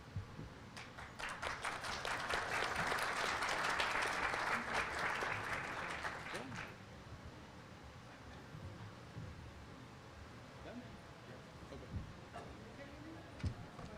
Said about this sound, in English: One more round of applause, everyone.